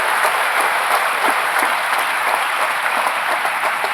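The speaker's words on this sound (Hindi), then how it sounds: "एक जोर से ताली हो जाए हमारे वेटरन्स के लिए।" Audience applauding army veterans at an honour ceremony, a dense steady round of clapping from a crowd, close and sustained throughout.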